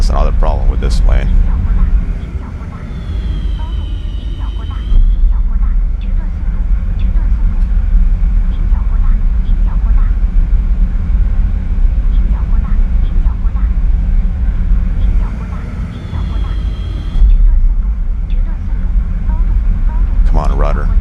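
A J-10A fighter jet engine in a flight combat game roars as a steady, loud drone throughout, with brief shifts in pitch and intensity; someone talks over it.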